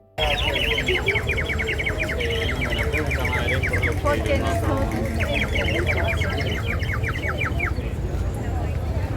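A man whistles rapid, trilling bird-like calls in repeated bursts, imitating birdsong close by, over steady outdoor background noise in Barcelona.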